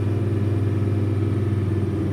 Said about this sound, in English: You can hear a little bit of V10-ness in there.